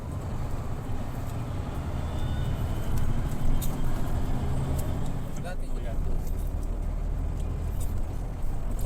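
Road traffic near Cabini Bridge: a steady rumble of cars and heavier vehicles rolls past continuously, with a voice talking over it inside a moving vehicle.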